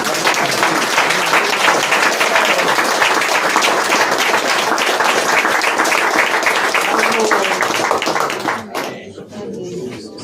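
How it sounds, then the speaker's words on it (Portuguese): A congregation at a church gathering breaks into loud, dense clapping that runs for over eight seconds, then stops abruptly, leaving a quieter room with a voice. "Dá uma salva de palmas para ele"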